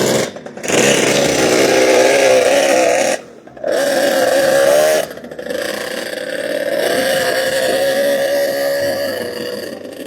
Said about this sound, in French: ça c'est le proto du président. Il y a 2 moteurs.